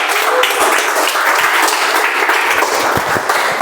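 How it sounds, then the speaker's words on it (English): A Toastmasters meeting audience applauding its youngest guest, loud dense clapping from many hands held steady and close throughout. "A huge round of applause to our youngest guest."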